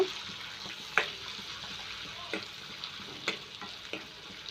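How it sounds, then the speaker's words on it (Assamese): Turmeric fries in a little oil as it is stirred in a pan for a colocasia stem bhaji, with a quiet steady sizzle and occasional light scrapes and taps of a spoon. "হালধিটো অকণমান দিয়াৰ পাছত তেলকণত লৰাই ল'ব লাগে, যাতে তেলকণত পাক খায়।"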